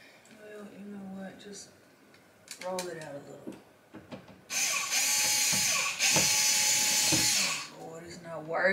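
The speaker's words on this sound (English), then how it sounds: "just gonna try to drill it" A power drill whirs loudly in two sustained bursts at home, preceded and followed by someone talking.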